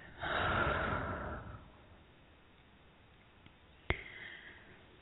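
A single slow, breathy exhale is heard up close during a guided meditation, followed by quiet and one small click near the end.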